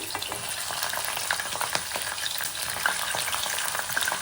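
Onions, peanuts and chillies fry in hot oil with mustard seeds for poha, a close crackling sizzle with frequent small pops and the scrape of stirring.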